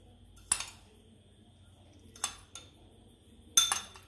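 A spoon clinks against a bowl three separate times while bread crumbs are spooned in for a potato smiley recipe, with short metallic taps spaced apart over a quiet room.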